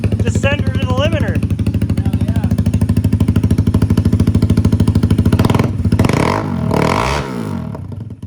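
A loud street motorcycle engine, revved cold and held hard near its limiter for several seconds, roars steadily up close before the revs drop and the engine falls back with a few rougher bursts.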